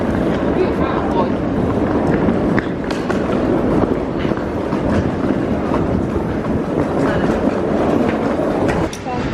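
A train rumbles steadily along the last leg of a rail journey home via Dortmund, Germany, with a continuous loud rolling and rattling from inside the carriage and faint clickety-clack.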